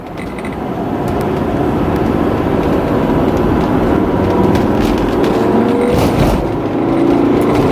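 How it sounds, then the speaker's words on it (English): A 1984 Mercedes-Benz W126 300SD turbo diesel runs with a steady, loud engine drone and a rising turbo whine building over several seconds, with no talking. "Turbo turbo spools up nicely"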